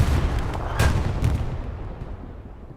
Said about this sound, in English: the artillery on both sides is crazy